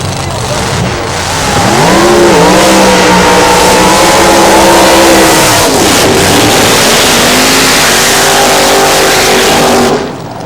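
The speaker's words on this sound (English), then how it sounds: "a 67 Camaro, all steel body, powered by a 427 Chevrolet." A 1967 Camaro drag car with an all-steel body and a 427 Chevrolet engine roars loudly and continuously, revving and accelerating hard with a dip midway before surging again, while faint voices sit underneath.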